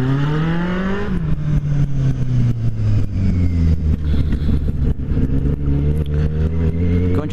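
A white Kawasaki Z750 motorcycle engine drones loudly and continuously while riding, with rising revs and gear-shift dips, the exhaust note close and dominant throughout.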